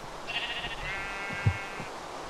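A Minecraft sheep gives one clear, drawn-out bleat. It sounds fairly close against faint low background sound, and no one talks.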